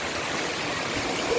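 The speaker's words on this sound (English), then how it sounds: "the waterfall" Mountain waterfall in Duki, water gushing from a hole in the rock in dry country, a steady, loud, close rush with no pauses.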